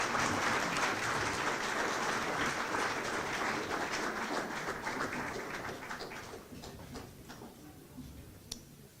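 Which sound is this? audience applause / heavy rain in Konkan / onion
audience applause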